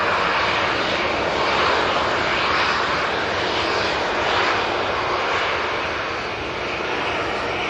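A passenger jet departs Manchester Airport with a loud, sustained engine roar that swells and slowly fades, dense and broad, with no voices over it.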